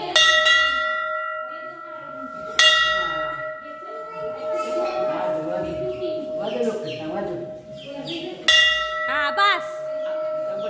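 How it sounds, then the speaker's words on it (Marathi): A metal bell at a Bhavani Devi village temple rings in a few sharp strikes with long ringing decay, near and loud, while people talk around it between the strikes. "इकडे घंटी वाजवायला आपल्याला"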